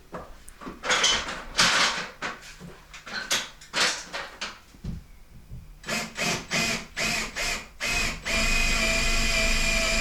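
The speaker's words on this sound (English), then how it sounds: "drill into that joist." A power drill with an 8mm bit whirs in several short bursts, then runs in a steady, sustained grind as it bores into a wooden joist, close and loud.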